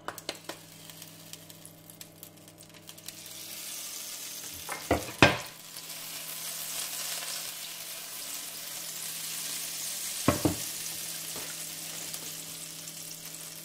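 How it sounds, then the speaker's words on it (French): Lamb cutlets going into olive oil and butter in a frying pan, a few sharp clatters and knocks of placement followed by a soft, steady sizzle, moderately quiet and without talk. "Et on fait cuire les côtelettes."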